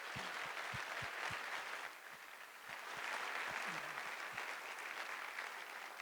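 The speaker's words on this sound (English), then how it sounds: "Let's give another quick round of applause to Tim and Sean" Audience applause at a fundraising event against human trafficking: a steady wash of many hands clapping, fairly faint and distant, with a few sharper nearby claps and low thumps standing out, continuing throughout without speech.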